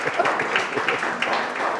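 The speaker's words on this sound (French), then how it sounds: "Il y a une seule personne qui a envie d'applaudir" Audience applause in a room, dense overlapping claps continuous throughout with talk mixed in.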